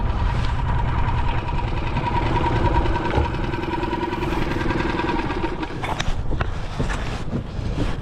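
Small outboard motor running in a back-to-back comparison test, a loud steady mid-pitched engine drone up close with a few sharp clatters and revs toward the end.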